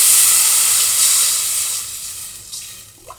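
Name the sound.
pouring water into a cooking pan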